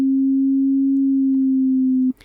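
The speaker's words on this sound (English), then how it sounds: "It's just a simple sine wave with a slight bit of pitch modulation being applied to it" A steady synthesizer sine tone with a slight pitch modulation holds alone for about two seconds, then cuts off abruptly, followed by a faint brief click.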